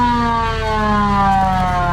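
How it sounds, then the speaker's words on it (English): Police siren on a 1962 Ford Galaxie squad car, a loud, steady electronic wail with strong sustained harmonics, sounding close and continuous throughout with no talk. "Show me the siren."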